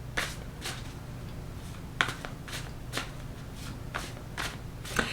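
Cards are shuffled in a series of quick riffling bursts at a steady rhythm, close up and moderately loud, with no talking.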